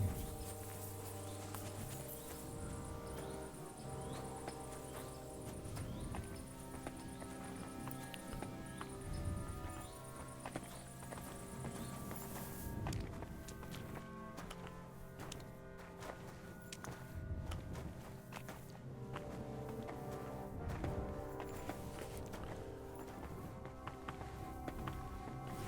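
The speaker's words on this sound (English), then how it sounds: "Can I call my horse?" Horse hooves clip-clop in Kingdom Come: Deliverance II, steady walking footfalls over a game music bed with faint ambient insects, quiet and continuing for the whole stretch.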